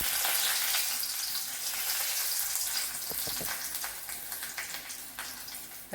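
Green chillies fry in hot oil with mustard seeds in the pan, giving a loud, dense, continuous sizzle that eases slightly toward the end, with a few clinks from stirring.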